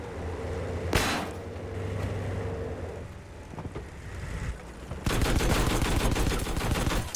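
Sniper and other gunfire in Battlefield V erupts as a sharp crack near the start, then a dense stretch of rapid shots fills the last couple of seconds, loud over constant battlefield rumble.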